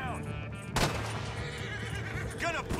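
A horse in the Red Dead video game whinnies in a rising, wavering call near the end, over a busy bed of game noise and a sharp burst just before the middle.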